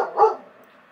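A single short dog bark, fairly close and loud, then quiet.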